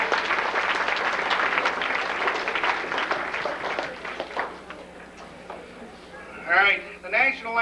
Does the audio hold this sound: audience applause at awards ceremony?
yes